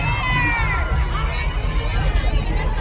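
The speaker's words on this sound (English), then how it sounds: "Hey, look at the crowds here." Large outdoor crowd at Chicago's Bud Billiken back-to-school parade, a steady dense hubbub of voices and cheering with a low rumble beneath and scattered whistles or horns early on, people talking nearby.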